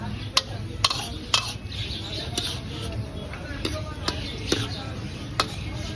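Boiled rice is stirred and mixed in a pan at a street food stall, with light scraping and repeated sharp metallic clinks of a utensil against the pan, under steady background bustle and talk.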